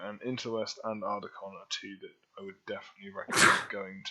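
A single loud, sharp sneeze bursts out near the end, following a man's ordinary speech.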